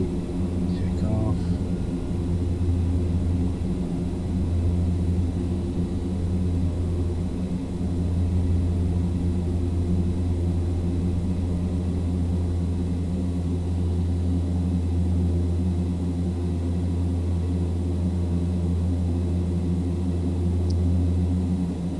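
The engines of a Carenado Fokker 50 in the Prepar3D v4 flight simulator drone with a steady low propeller rumble and hum during takeoff, holding an even level throughout the clip with no talk.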